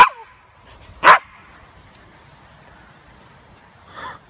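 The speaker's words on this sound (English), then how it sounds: "Hey, no barking." A husky gives a few loud, sharp barks, two main bursts spaced seconds apart with a brief yelp at the start, in an otherwise quiet room.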